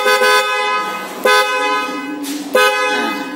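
A Fiamm horn fitted to a Honda Scoopy scooter sounds three short, loud toots in a row, each a bright, harmonic blare, close and alone.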